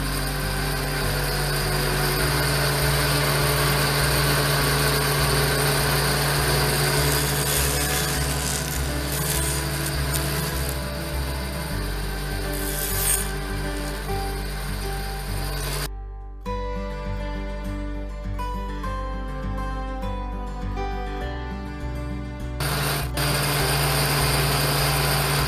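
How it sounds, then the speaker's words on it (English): Table saw blade running through wood in repeated passes to cut a dado for a display case box, a steady loud whine and rasp that drops out briefly then resumes. "all we got to do is run it through the blade a few times."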